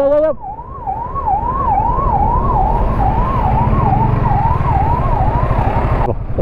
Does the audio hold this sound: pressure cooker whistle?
no